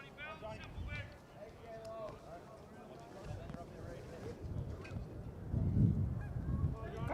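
Geese honk near a baseball field during a high school game, a flurry of nasal calls rising and fading at moderate distance under a commentator's ongoing talk and outdoor noise.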